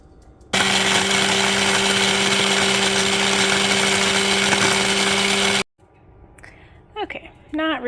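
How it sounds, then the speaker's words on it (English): An electric grinder whirs steadily for about five seconds, powdering dried onion and herbs with a loud, even motor hum, then stops abruptly, followed by someone speaking. "I've got my herbs, and I'm going to grind them up."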